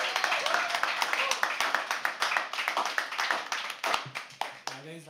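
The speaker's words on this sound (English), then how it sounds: "Keep clapping till it comes to the" At a live poetry open mic, audience members keep clapping as the next performer heads to the stage, a sparse, fairly close patter of individual claps that thins out as someone starts speaking near the end.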